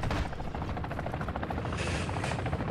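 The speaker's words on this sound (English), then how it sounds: "I'm gonna get this helicopter" A helicopter in the DMZ video game, a loud continuous rotor thump and buzz close up that holds steady throughout, no speech.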